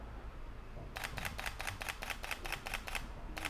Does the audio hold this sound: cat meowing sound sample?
no